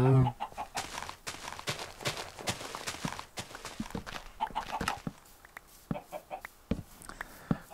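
Chickens cluck in a Minecraft survival game, with short repeated bursts and game footsteps tapping between them in an uneven rhythm.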